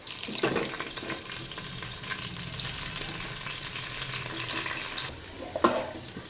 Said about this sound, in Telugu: ఇప్పుడైతే ఎగ్ వేస్తున్నా